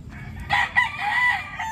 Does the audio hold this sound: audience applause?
no